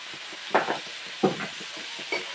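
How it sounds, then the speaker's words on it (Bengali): Bathua greens with crushed garlic frying in oil in a pan, a soft continuous sizzle broken by three louder stirring scrapes at roughly even intervals. "এখন তেল দিয়ে ভাজা করবো ভালো করে শাকটা।"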